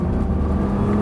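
Close, loud Nissan GT-R engine noise holds a steady throaty drone, with a faint rising whine as the car accelerates on a track.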